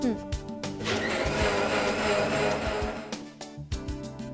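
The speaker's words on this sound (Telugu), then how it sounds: "మళ్ళీ ఇంకోసారి మిక్సీ పట్టాలి" A mixer grinder blending yogurt and water for masala lassi whirs loudly for a few seconds, starting and stopping abruptly, with people talking before and after it runs.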